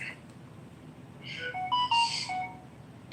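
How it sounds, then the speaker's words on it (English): A mobile phone ringtone plays a short, faint melodic jingle of bright electronic notes, rising and falling briefly over low room noise. "Oh, sorry, that was my phone."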